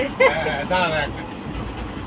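A passenger train travelling toward Shimla, Kullu and Manali gives a steady, moderate rumble from the rails, while voices talk and call out briefly over it.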